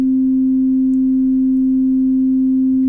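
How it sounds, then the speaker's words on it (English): A pure sine wave test tone runs through a modeled compressor, one loud, perfectly steady hum held for the whole stretch with nothing else around it. "And this is just a sine wave"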